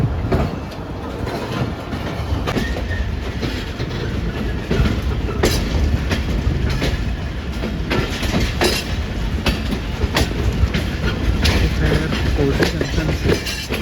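The Pak Business Express 33UP runs on rails near Kotli Junction, its wagons giving a steady clickety-clack and rumble that stays loud and close throughout, with a voice talking faintly underneath at times.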